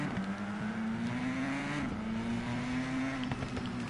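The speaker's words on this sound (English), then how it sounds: "this bike's not sounding as great as I would expect it to" A motorcycle engine in TT Isle of Man 2, among its options a 750cc two-stroke, drones at a steady mid pitch, dipping briefly and then climbing again as the bike holds speed.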